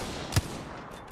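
A single sharp gunshot cracks in an Apex Legends Arena match, brief and punchy against steady in-game background noise.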